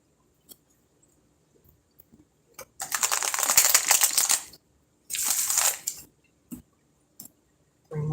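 Tarot cards being shuffled by hand, heard as two bursts of riffling and rustling of about one and a half and one second each, with a few soft card taps between them and no talking.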